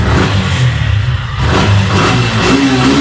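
A 2022 Suzuki Gixxer 175 motorcycle with about 12,000 km on it revs up loudly and close, its engine note rising and holding in steady, throaty bursts with no one talking.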